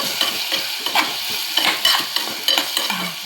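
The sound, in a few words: tomatoes frying in oil, being stirred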